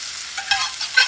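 Garlic, mushrooms, vegetables and seafood stirred around in a hot frying pan, a soft sizzle with a few scraping strokes of the spoon, close and brief.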